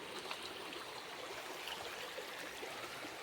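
Water runs steadily along a stream beside a paper-making plantation, a continuous close rushing and trickling wash with no voices.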